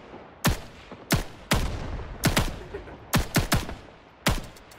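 SKS rifle fire in the video game Rising Storm 2: about eight sharp, loud single shots in an uneven rhythm, some in quick pairs, each with a short echoing tail and no talk.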